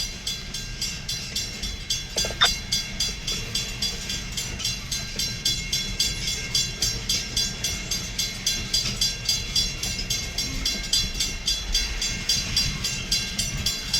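Freight train moving past on the rails, a continuous low rumble with a rhythmic clatter of wheels over joints and a brief metallic squeal, steady and moderately loud with no talking.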